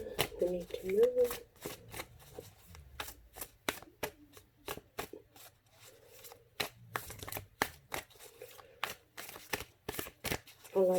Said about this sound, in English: I like to shuffle a lot.